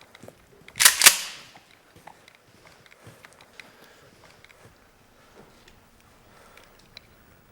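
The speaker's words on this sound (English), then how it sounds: "they're walking down corridors shooting firearms and they're still boring" A single loud, sharp gunshot cracks near the start of a school-shooting scene in the film Elephant (2003), followed by a quiet stretch of faint footsteps and soft scattered taps.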